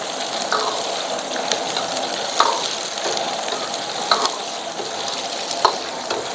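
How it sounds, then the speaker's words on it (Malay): Chicken liver, heart and gizzard fry in hot oil in a wok with a constant hissing sizzle, occasional bright clinks and scrapes of a spatula stirring, close up. "digoreng jadi ya."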